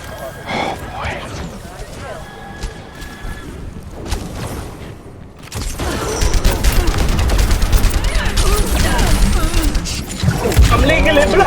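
Gunfire in the Overwatch video game comes in dense, rapid bursts and crackling volleys that grow heavier partway through, under near-constant talk.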